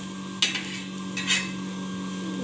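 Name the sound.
roasting amti spice masala in a pan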